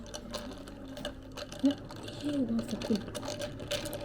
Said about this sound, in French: On va mixer.